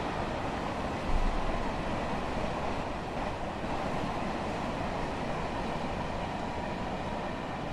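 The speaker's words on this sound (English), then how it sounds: "So it looks like our train is coming in." A Long Island Rail Road train in the game Train Sim World rumbles steadily along the tracks as it approaches, with a continuous low roar and hiss, one slightly louder thump near the start.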